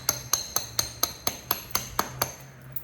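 A hammer stone strikes Coastal Plains chert in a steady series of about ten sharp, close, glassy clicks, evenly spaced around a quarter second apart, with no talking.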